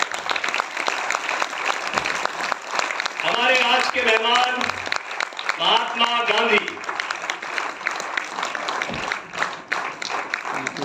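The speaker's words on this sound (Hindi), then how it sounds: "मैं चाहूंगा जोरदार तालियों के साथ उनका स्वागत करें।" An audience gives loud, continuous applause to welcome a guest dressed as Mahatma Gandhi, steady clapping throughout while someone speaks over it.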